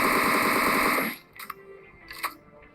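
M762 rifle firing in a PUBG-style shooter game: a rapid, loud automatic burst for about a second, then it stops, followed by a couple of fainter distant pops.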